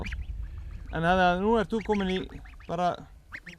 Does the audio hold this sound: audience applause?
no